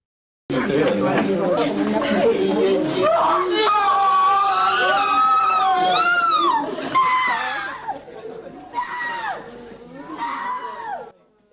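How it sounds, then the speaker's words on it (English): Mothers' anguished wailing and crying rise over a murmuring crowd as their children's names are read after the Beaune A6 bus disaster in France, loud and sustained, with sobbing cries continuing toward the end. "Footage of mothers screaming and fainting as they heard their children's names being called is gut-wrenching"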